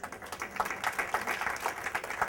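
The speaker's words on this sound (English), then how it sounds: "Round of applause." Audience applause at a science-themed stand-up comedy show, steady dense clapping from a crowd over a couple of seconds, moderately loud with no voice over it.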